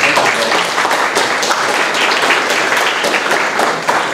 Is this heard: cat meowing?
no